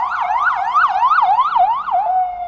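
An ambulance siren passing in the street wails loudly and close, rising and falling in a steady, rapid cycle, then settles into a long held tone, with no talking.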